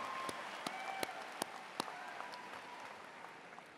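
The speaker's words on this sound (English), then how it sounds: "Can somebody give them a round of applause?" Crowd applause for graduates at a high school graduation ceremony, a continuous patter with a few sharp, distinct claps standing out nearby.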